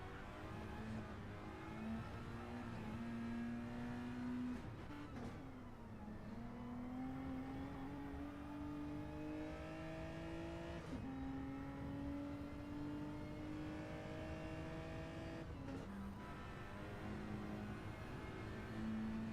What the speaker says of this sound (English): Another Suzuki Swift on track.